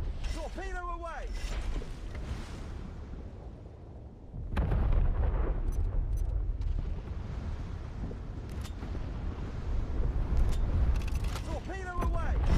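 A warship fires a torpedo at a battleship in the naval video game War Thunder Mobile: a sudden heavy mechanical burst and rumble, with brief voice callouts near the start and end.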